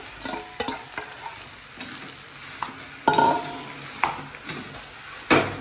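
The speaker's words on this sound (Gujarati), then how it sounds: "હવે હજુ બટેકા કરી દીધા છે નાખીને સરસ ફ્રાય કરી દઈએ" Potatoes with green and dried chillies frying in a pan, an even sizzle punctuated by several sharp spoon clanks and scrapes against the metal, close and clear.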